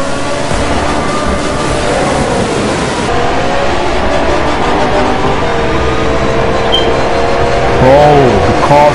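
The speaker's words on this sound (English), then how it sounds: "Bro, the cars are screaming." Car engines scream during a car meet cruise in The Crew 2, a loud continuous roar with engine pitch rising and falling near the end, while people talk over it.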